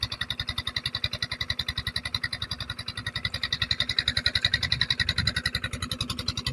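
A small engine runs a water pump draining a fish pond, chugging in a fast, steady rhythmic pulse, loud and close throughout.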